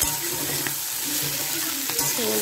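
Mixed vegetables frying in a pan over a low-to-medium gas flame, a steady broadband sizzle with faint stirring scrapes running throughout, close and continuous.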